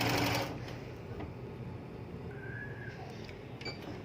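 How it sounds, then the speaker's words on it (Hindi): Sewing machine running a straight stitch along a baby skirt belt, a faint steady mechanical hum after a louder start, with a few light clicks. "इस तरह से मैं पूरे बेल्ट को सीधी सिलाई लगाऊंगी।"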